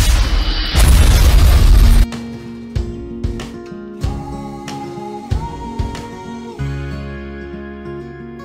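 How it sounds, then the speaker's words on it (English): A huge explosion sound effect opens with a loud, sustained broadband roar for about two seconds, then gives way to a series of sharper booms and ringing tonal hits that fade away. "after that huge explosion, let's start with the class"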